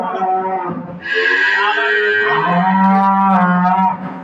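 Loud, close mooing from dairy cows on a farm: a long, drawn-out low call that rises and shifts in pitch, running nearly the whole time.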